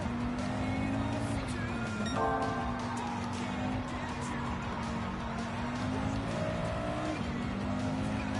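A race car in Gran Turismo 7 drones on at steady revs while its tires squeal and slide, with shifting engine tones heard close and continuous.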